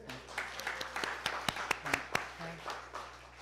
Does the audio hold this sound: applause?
yes